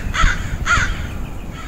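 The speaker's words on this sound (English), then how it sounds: "and now we've got these crows." Crows give two harsh, loud caws about half a second apart, close by in a garden, with a quieter call trailing after.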